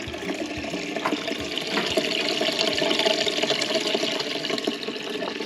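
Water drains out of an emptied sink plug into a homemade grease trap, a continuous gushing and gurgling flow that swells slightly midway and holds steady without any talk.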